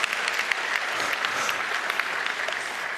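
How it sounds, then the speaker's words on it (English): Steady audience applause fills a conference hall at the 29C3 hacker congress, dense and continuous for the whole stretch with no voices rising above the clapping. "you can applaud that if you wish"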